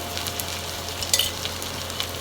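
Ginger garlic paste sizzles and crackles steadily in a hot pan, with a few soft scraping stirs, close up and fairly quiet.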